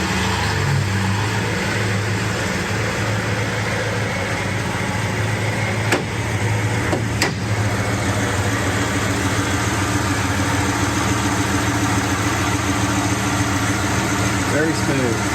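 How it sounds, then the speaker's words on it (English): A 1966 Ford Mustang convertible with a lite restomod idles steadily up close, its smooth, even engine rumble holding alone the whole time apart from a couple of brief clicks. "I'll fire it up and you can hear it run."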